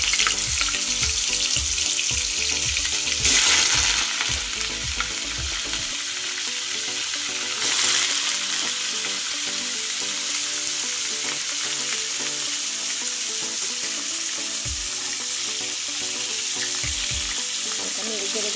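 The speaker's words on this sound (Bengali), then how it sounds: "আমি এই তেলের মধ্যে হালকা সিদ্ধ করা ফুলকপিগুলো দিয়ে দেব।" Parboiled cauliflower florets go into plenty of hot oil in a kadai, setting off a loud burst of sizzling that settles into a steady, softer fry with occasional stirring.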